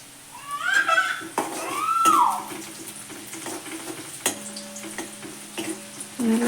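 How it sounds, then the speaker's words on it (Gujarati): Chopped onion and garlic frying in a pan for a traditional Gujarati dry cowpea curry, with a light sizzle under clinks of a spoon and scraping stirs, plus a few brief utensil knocks. "ડુંગળી ચડી રહી છે, તો હવે આપણે નાખી દઈએ લસણ."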